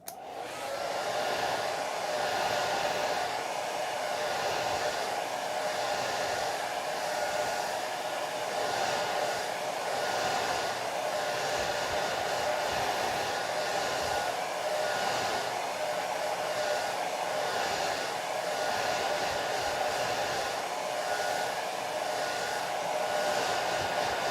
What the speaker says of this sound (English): I'll get the blow dryer to get it started.